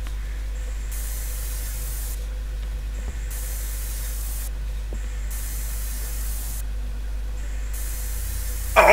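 A spray paint can hisses in the horror video game Erie, repeated bursts of bright hissing spray of about a second each in an even rhythm over a low steady hum, with no talking.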